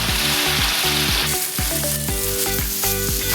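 Chopped onion and tomato fry in hot oil with a bright, steady sizzle, joined by a repeating rhythmic harmonic tone and occasional stirring, with no one talking.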